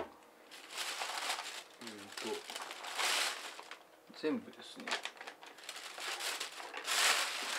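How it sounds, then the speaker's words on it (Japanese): A plastic bag holding parts from an old Furuno GPS plotter being repaired rustles and crinkles in several close, scratchy bursts, while someone speaks briefly between them. "袋に入れておいたんでちょっとガサガサうるさい。"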